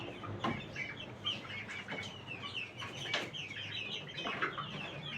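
Several chickens cluck and squawk nearby in a busy, irregular chorus, with sharp calls popping out over a low steady background.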